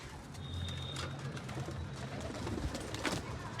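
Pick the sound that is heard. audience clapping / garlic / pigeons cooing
pigeons cooing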